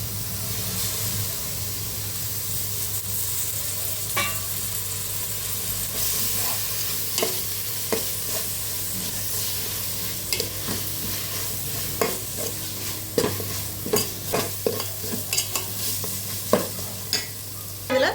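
Onions are sautéed in a pan for a Kongu-style white mutton biryani, with a steady background sizzle and hiss, and intermittent scraping stirs that grow more frequent and louder toward the end, with no speech.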